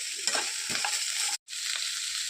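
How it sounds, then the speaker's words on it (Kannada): Three sliced onions and a clove of garlic fry in oil in a pan, giving a steady close sizzle broken by soft stirring scrapes, with a brief dead-silent gap partway through. "ಉದ್ದುದ್ದಕ್ಕೆ 3 ಈರುಳ್ಳಿ ಕಟ್ ಮಾಡಿ ಇಟ್ಕೊಂಡಿದ್ದೆ, ಅದನ್ನ ಫ್ರೈ ಮಾಡಿಬಿಡೋಣ."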